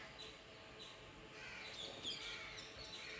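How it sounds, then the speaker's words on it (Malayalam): A crow caws outdoors, faint and distant, its calls rising briefly over a quiet background of soft ambient noise. "കാക്ക, ചെമ്പോത്ത്,"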